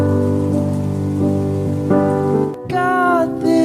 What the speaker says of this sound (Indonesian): saat hujan turun terlihat sangat romantis